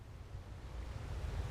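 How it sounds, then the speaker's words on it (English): Sea waves in the Ships at Sea video game, a steady low rushing surge that builds slightly, continuous and unbroken with no talk. "I definitely think the waves are picking up."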